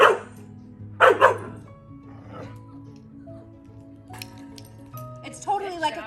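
A dog barks loudly up close in two sharp bursts, then gives a whiny yip near the end, with a person talking in between.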